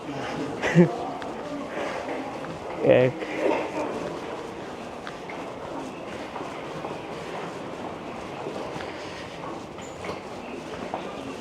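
A Seoul metro train runs underground, its steady rumbling rattle with a few clunks heard from inside the carriage while people talk over it.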